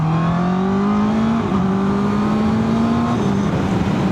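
A 2025 Honda CB650R E-clutch motorcycle's engine screams as it accelerates on the road, revving steadily higher through a gear change with a brief dip before climbing again, loud and close throughout.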